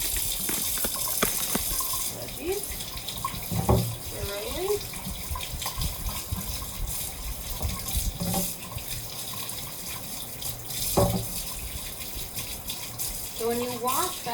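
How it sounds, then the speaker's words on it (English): Tap water runs steadily into a kitchen sink while vegetables are washed under it, a continuous splashing hiss with occasional clunks and handling sounds, and a person talking over it. "you don't just run them under the water"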